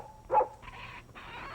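A dog trained to catch minks that escape their cages gives one sharp, loud yelp, then a couple of thin, drawn-out whining whimpers, close by and with no talk over it.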